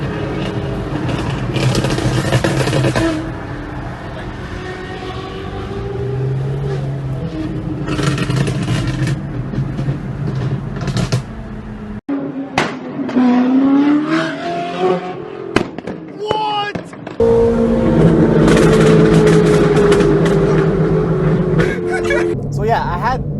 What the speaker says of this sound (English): you probably have never heard crackles on a 458 like these.